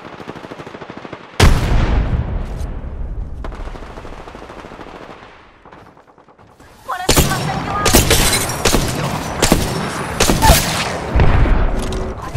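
In Apex Legends, a loud grenade blast bursts out early, then a rapid, close barrage of automatic and single gunshots with further booms fills the rest, with brief voices among the firing.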